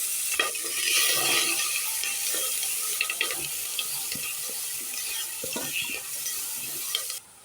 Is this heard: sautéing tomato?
yes